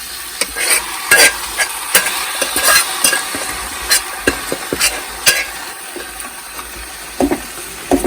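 Idukki-style boti (offal) curry sizzles steadily in a hot pan while a spoon scrapes and clatters through it in irregular strokes, close up and fairly loud.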